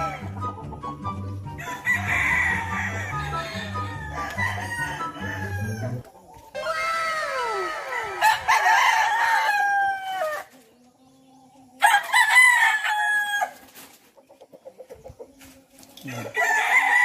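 Several fighting roosters on a farm crow repeatedly in long, loud calls, one after another, with clucking and other fowl sounds between them and a rhythmic background at the start.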